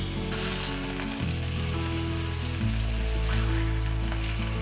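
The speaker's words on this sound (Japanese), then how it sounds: "タレが絡むぐらいごま油、皮面から焼いていきます。" A fish fillet fries skin-side down in sesame oil in a pan, with a steady, close sizzle that holds throughout and gets slightly louder partway through.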